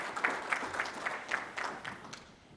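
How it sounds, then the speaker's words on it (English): Scattered clapping from a conference audience for two presenters, a thin round of individual claps at moderate distance that thins out and fades over a couple of seconds. "Nate Norris, Matt McChesney, give them a round of applause."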